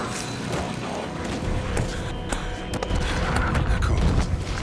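Gunshots in Alan Wake 2 during a cult encounter, a dense clatter of sharp cracks and thuds over a busy background rumble, no clear talk.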